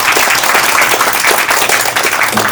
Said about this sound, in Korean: 여러분들께서 큰 박수 한번 부탁드리겠습니다